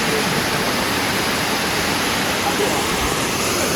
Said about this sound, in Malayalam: ഇതാണ് കല്ലാർ മീൻമുട്ടി വള്ളച്ചാട്ടം എന്ന് പറയുന്നത്